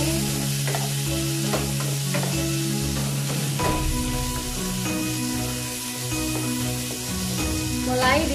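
Leunca berries and beef sauté in a pan, giving a steady, close frying sizzle with occasional scraping stir sounds under sustained tonal background music.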